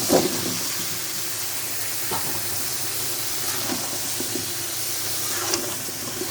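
Pointed gourd added to hot spiced oil in a pan for a rui fish curry, giving a loud, steady sizzling hiss that fills the whole stretch with small crackles.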